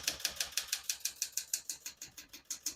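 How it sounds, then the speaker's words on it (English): Typing on a 1980s Smith-Corona Deville Deluxe portable typewriter produces a close, crisp run of about seventeen evenly paced keystrikes, each a sharp clack that fades quickly. "We're going to keep that on single for now and finish typing."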